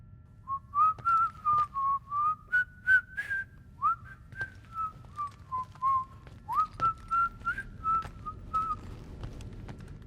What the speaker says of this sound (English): I was hoping he'd be whistling like Cats in the Cradle or something.